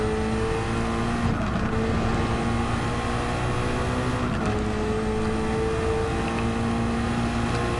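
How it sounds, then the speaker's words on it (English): Loud, steady engine roar of a car in Gran Turismo 7, echoing as it drives through a tunnel, with a sustained droning tone that shifts pitch slightly around the middle and no voices. "that lovely echo sound from the tunnel itself"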